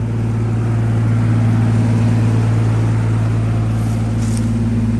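Turbocharged Lexus LX450 (FZJ80) engine running steadily, a constant low droning hum with strong low rumble and no pauses, fairly loud and close, with no talking.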